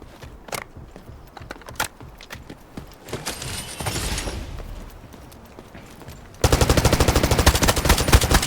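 Gunfire in the shooter game Delta Force starts as scattered single shots and short bursts over a noisy swell, then breaks into loud, sustained rapid automatic fire that rattles on steadily to the end.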